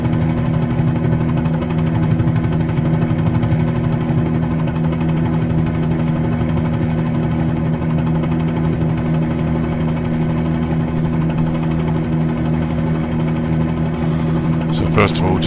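A helicopter in Microsoft Flight Simulator 2020 spools up for takeoff from a pad on Paros, with a loud, steady rotor and turbine drone carrying strong low hums throughout and a brief crackle near the end.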